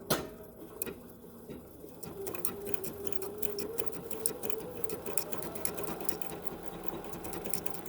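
A sewing machine stitches a decorative asterisk pattern, running steadily and continuously with a rapid mechanical patter, close and moderately loud throughout, with no talking.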